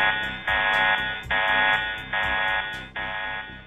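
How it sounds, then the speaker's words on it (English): An alarm sounds at the console of the VLT telescope as four loud, rhythmic buzzing pulses of even length with short gaps between them, heard alone and close. "An alarm at the VLT console indicates to the astronomers that the activation of the rapid response mode has been requested."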